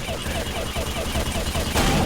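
Rapid, steady bursts of heavy mounted machine-gun fire in Left 4 Dead 2 rattle continuously, growing even louder near the end, with no pauses between rounds.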